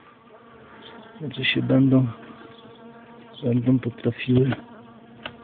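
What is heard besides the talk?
bees buzzing as they come out of the hive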